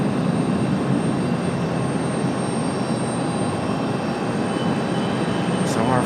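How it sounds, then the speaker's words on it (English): A UPS Boeing 757 jet departing in daylight from Raleigh-Durham International produces a steady, broad engine roar. It holds constant and fairly loud for the whole stretch, with no talk over it. "Our FedEx, or our UPS 757, coming out in the daylight"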